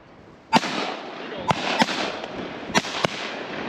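Shotgun blasts ring out during a wood duck hunt in Hyde County, four or five sharp reports spaced over a few seconds, loud and close with a rolling wash of echo between them.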